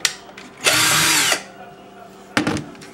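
A power drill with a large bit bores into a wine cork, whirring loudly in a burst of under a second, then after a pause starts up again briefly, close and harsh.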